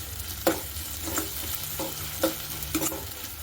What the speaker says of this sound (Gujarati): આદુ મરચાં અને લસણ વાટી લીધું છે તે એક ચમચી જેટલું એડ કરી દઈશું હવે તેને સારી રીતે મિક્સ કરી લઈશું